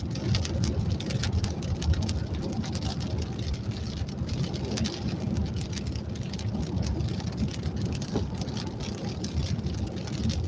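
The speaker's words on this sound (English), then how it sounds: "It is raining, but I don't have my window wipers on." Steady rain patters on a car's roof and windshield, a dense continuous hiss with faint low rumble throughout, no voices.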